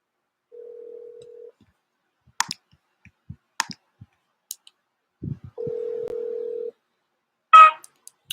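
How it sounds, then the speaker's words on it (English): A phone call being placed: two steady dial-tone-like bursts separated by a run of sharp clicks and short tones, ending with a brief ringback chirp, all close and clear with no voices. "I'm going to give him a call back right now, try to get him on the phone"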